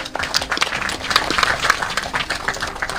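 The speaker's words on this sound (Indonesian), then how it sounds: "Tepuk tangan untuk beliau." Broad, dense applause fills a formal Indonesian government gathering in honour of the President, a steady wash of many hands clapping at once, loud and sustained with no break.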